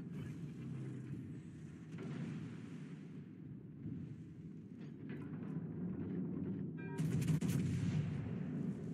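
Battleship guns fire in World of Warships Legends: a series of deep, rumbling booms roll through a quiet naval battle, with a sharper, brighter burst near the end.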